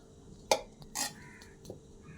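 A serving spoon clinks against a pressure cooker while chicken biryani rice is scooped out: a few sharp metallic knocks spaced apart, quiet and nearby.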